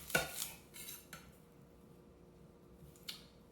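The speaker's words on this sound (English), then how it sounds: "To mince the shallots, the first thing I do is I cut the top and the bottom off." Knife blade striking a cutting board as the top and bottom are sliced off shallots, a few quiet sharp taps spread over a few seconds, the strongest near the start and one more later on.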